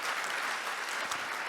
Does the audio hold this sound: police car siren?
no